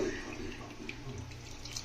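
Water runs steadily from a tap into a sink, splashing softly and continuously at close range.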